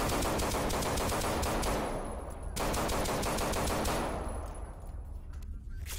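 Machine gun fire in the horror game Paranoia 2: Savior rattles in loud, dense rapid bursts, stopping briefly near the middle and then resuming before trailing off at the end.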